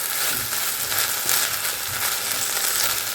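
Chopped capsicum, peas and onion greens sizzle steadily in a hot pan, a loud, continuous frying crackle with faint stirring beneath.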